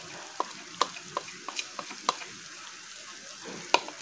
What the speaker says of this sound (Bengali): এবার এগুলো দিয়ে ভালো করে আমরা মশলাটা কষবো